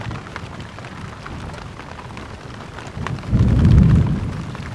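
Heavy rain falls in a forest at night and drums steadily on a makeshift survival shelter, a dense continuous hiss with a deeper, louder surge near the end.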